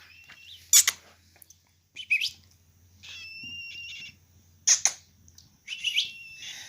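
A pet parrot chirps and whistles in short separate bursts, some sharp squeaks and some thin sustained whistles, close by with quiet gaps between.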